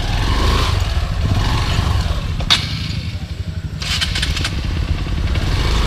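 A motorcycle engine idles and gives small, careful revs while the rider picks a way over slippery rocks on an off-road trail, with a rumbling, uneven note and a brief clatter in the middle.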